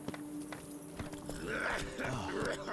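Horse hooves clip-clop at a steady walk in The Witcher 3: Blood and Wine, fairly close and moderately loud over quiet game ambience, with no speech.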